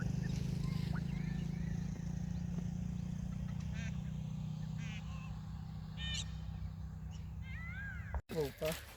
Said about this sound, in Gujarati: ખાલી ખેતરનો વ્યૂ અને એમાંય મસ્ત પક્ષીઓનો અવાજ આવે